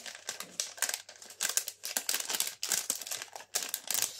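Tightly wrapped packaging is unwrapped up close, giving bursts of loud crinkling and rustling plastic or paper with short pauses between handfuls.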